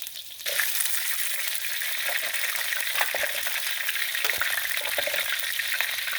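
Prawns fry in hot oil for a buttermilk prawn dish, giving a loud, steady, dense sizzle that hisses continuously throughout, with occasional faint stirring scrapes and no talking.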